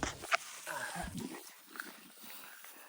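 Dogs bark faintly in the distance across an open farm field with a groundnut crop, the calls muffled under steady outdoor background noise.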